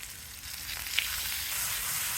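Marinated fish pieces fry in hot oil for a coconut-milk fish curry, producing a steady, soft, close sizzle that rises slightly toward the end, with no talking.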